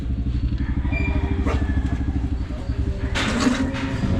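A motorcycle engine runs close by with a steady low, pulsing throb that continues throughout, roughly evenly loud, with brief clatter and some voices faintly under it.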